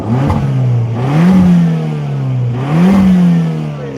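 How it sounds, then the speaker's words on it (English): A Dodge Dart engine running rough, close and loud, with a low idle that surges twice into short revs and falls back, its uneven note wavering between the climbs. "now you can hear the car not being happy"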